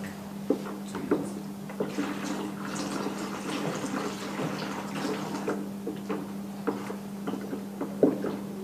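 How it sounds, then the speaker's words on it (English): Cool water is poured into a homemade body cream mixture, a soft, steady liquid fill with occasional clinks and drips over a constant low hum. "You stir it and add cool water"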